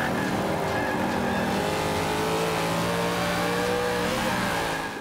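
A Hummer engine in Forza Motorsport 5 revs loud and steady, a throaty continuous drone with shifting pitch and some tire noise, no talk.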